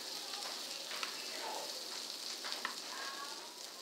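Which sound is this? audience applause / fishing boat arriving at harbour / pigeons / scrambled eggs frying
scrambled eggs frying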